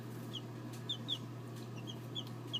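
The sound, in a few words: young barred rock and black sex link chicks in a box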